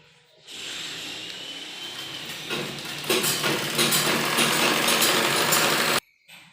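Sewing machine stitching the side seam of palazzo trousers, a steady close whir that starts abruptly, grows a little louder partway through, and stops sharply near the end.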